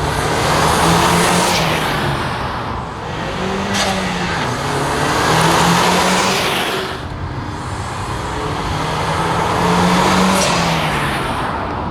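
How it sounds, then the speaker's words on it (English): A 2015 Ford Mustang 2.3L EcoBoost turbo engine fitted with an AIRAID race cold air intake, revved loudly in repeated swelling pulls with an aggressive intake growl and turbo whoosh, close and alone without talk. "it's pretty obvious that this intake gives the engine a very aggressive sound"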